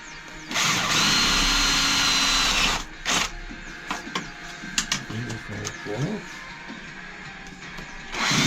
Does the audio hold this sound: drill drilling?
yes